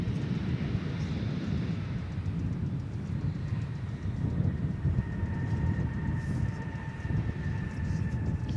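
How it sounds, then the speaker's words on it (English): American Airlines Airbus A319 arriving at Dallas/Fort Worth Airport, a steady low engine rumble with a faint high whine, heard from a distance and holding at an even level throughout, with no talking. "That was American Flight 922 from Buffalo, an Airbus A319"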